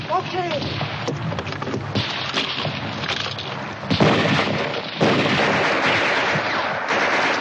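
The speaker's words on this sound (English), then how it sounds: "Hurry up with that mortar!" Mortar fire in a 1951 war film: loud booming blasts and sharp gunfire bursts sound close, with heavy impacts and crackling debris over a rough battlefield rumble.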